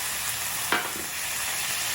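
Onions and garlic fry in a pan under a dense, even sizzle, with one sharp stirring scrape partway through, close and fairly loud.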